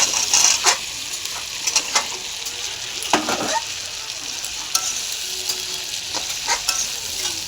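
Cauliflower and flat beans fry in spice masala in a pan, a close, steady sizzle broken by repeated scraping stirs and light utensil clinks.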